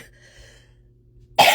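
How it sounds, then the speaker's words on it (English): A single sharp cough bursts out near the end after a quiet stretch with faint background hum. "Why do I have this silly cough and cold?"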